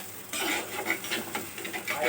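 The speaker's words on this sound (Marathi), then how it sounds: "असं त्याच्यामध्ये परतून घ्यायचं ते मस्त." Rajma masala puree is sautéed in a clay pot, with close stirring and scraping against the pot over a soft sizzle in short repeated strokes, and no talking.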